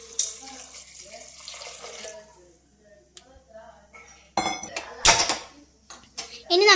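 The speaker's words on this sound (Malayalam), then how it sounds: "ആവശ്യത്തിന് വെള്ളം ഒഴിച്ചു കൊടുക്കാം" Water splashes and pours into a cooking pot holding vegetables seasoned with salt and turmeric, with clanking of utensils and a brief running-water rush partway through, under light kitchen noise.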